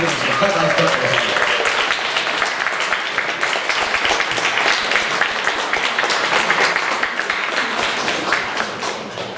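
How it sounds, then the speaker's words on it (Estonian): An audience at a choir concert gives a long burst of dense, even clapping that holds steady for several seconds before easing off slightly at the end. "Teeme neile suure aplausi ja kutsume nad arvusesti lavale"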